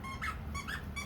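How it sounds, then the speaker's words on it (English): A dog's squeaky toy squeaks in a few short, fairly loud bursts, each rising and falling in pitch, over steady low background noise. "Okay, got the squeaky toy."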